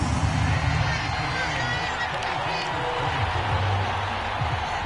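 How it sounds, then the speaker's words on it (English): A stadium crowd in the Madden 24 football game, Panthers vs. Lions, keeps up a continuous roar with scattered cheers through the whole stretch while a commentator's voice talks over it. "This crowd alive again."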